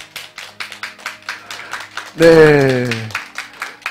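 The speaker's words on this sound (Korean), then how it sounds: "우리 자리에 있으면 환영의 박수 해주시겠습니다." A church congregation gives welcoming applause in steady, rhythmic claps at a brisk even pace. A voice briefly speaks over the clapping partway through.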